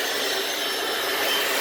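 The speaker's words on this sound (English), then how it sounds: "just gonna go back over the floor and vacuum up any excess water that could be left" A Hoover FloorMate vacuums leftover water off a cleaned garage floor, giving a steady, loud broadband whoosh of suction that runs unbroken for the whole stretch with no talking.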